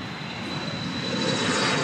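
A Southwest Boeing 737 MAX 8 jet airliner arriving from Denver on approach to land at Dallas Love Field, its engines giving a steady broadband roar that builds slightly in loudness, heard alone with no talk.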